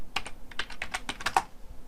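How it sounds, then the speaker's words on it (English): Typing with one hand on a computer keyboard: about a dozen quick, uneven key clicks, close and crisp, in a quiet room. "Typing with one hand."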